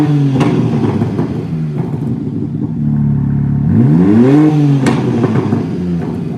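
A warmed-up 2021 BMW M3/M4 engine idles with a steady low rumble, then gets a single sharp rev that climbs and falls back, close and loud.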